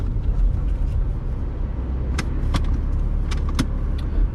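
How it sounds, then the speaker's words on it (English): A 2005 Porsche 987 Boxster S with a flat-six and Tiptronic automatic idles low and smooth while turning around on a driveway, with a few sharp clicks near the end. "Now I'm gonna put this into drive here before I turn onto this driveway and turn the car"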